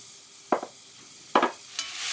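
Spanish onion and matchstick carrots dropped into melted margarine in a warm Dutch oven, giving two short bursts of clattering sizzle followed by a rising hiss of frying.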